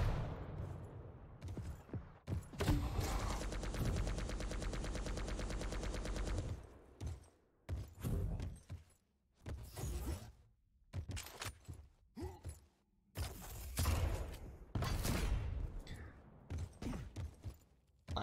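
Railgun shots fire in a competitive Quake match as sharp bursts of gunfire, mixed with dense game effects, loud and close, in irregular clusters and without commentary.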